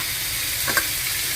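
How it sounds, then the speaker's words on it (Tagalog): Fried cucumber with sliced pork and oyster sauce hisses steadily in a pan, with one or two soft stirring scrapes near the middle of a brief, even sizzle. "Ito, halo-haluin lang."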